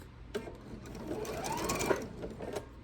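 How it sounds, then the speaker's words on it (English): A sewing machine stitches off the corner of a quilted tree skirt, a quiet steady run of rapid needle chatter lasting a few seconds with faint rhythmic thumps, and nobody speaking. "We want to see that corner lined up right with our needle and sew off."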